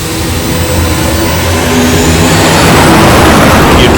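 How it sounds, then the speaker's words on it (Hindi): A drone flies close by with a loud, steady engine roar that builds slightly over a few seconds, with no voices. "अब तो इस ड्रोन का पीछा ही करना पड़ेगा।"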